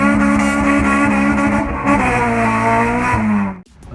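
A loud K20-engined Honda Civic at a dragstrip roars close by, its engine note climbing through revs in sustained harmonic sweeps before cutting off sharply near the end.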